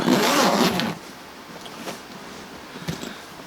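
A zipper on a Louis Vuitton Keepall 50 monogram titanium bag gives one quick, close rasping pull, followed by quieter handling rustles and a faint click near the end.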